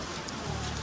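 Rain falling steadily, a faint, even patter of drops on surfaces lasting under a second, with no voices.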